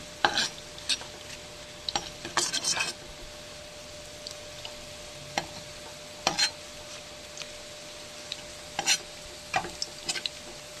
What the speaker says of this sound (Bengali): দেখুন বন্ধুরা কি সুন্দর ভাজা হচ্ছে দেখুন